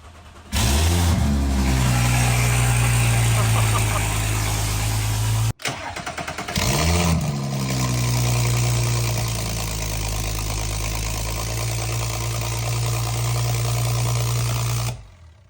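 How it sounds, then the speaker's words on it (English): An Audi S4 (B9.5) engine with no downpipe cranks and catches with a rough, loud idle, cuts out briefly, then starts again and rumbles steadily before shutting off. "No downpipe at all. Start of the car."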